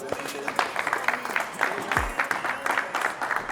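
Crowd applause at an after-work real estate event for the winning team, a burst of clapping from many hands under a voice.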